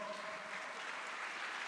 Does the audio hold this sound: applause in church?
yes